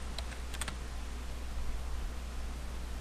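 A few quick keystrokes on a computer keyboard while configuring a router, faint soft clicks over a low background hum, then near silence.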